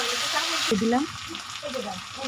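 Potatoes and green jackfruit frying in oil with spices, a steady hissing sizzle with a sudden surge as they go in, then scraping stirs beneath.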